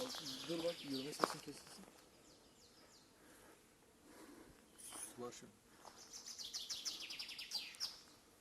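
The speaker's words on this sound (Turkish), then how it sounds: "kuşların sesi kesin geliyordur" Faint birds chirp and tweet outdoors on a mountain hike, in short bursts, with quiet ambient noise and a light buzz of bees between calls.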